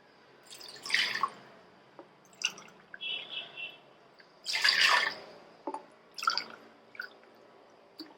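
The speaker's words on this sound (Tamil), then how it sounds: "இப்போ தண்ணி வந்து ஒரு 2 டம்ளர் விட்டுக்கலாங்க." Water splashes in short bursts from a tumbler into a pot of washed lentils on the stove, quiet and close, with soft drips and clinks between pours.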